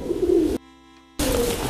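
A crossbred songbird of Rampok and Kenwood bloodlines calls loudly and close, in two strong bursts split by a short silent gap.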